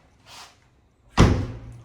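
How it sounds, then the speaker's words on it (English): Door being pulled shut in a house, a soft swish followed by a loud, close slam with a short ringing decay. "let me close these doors"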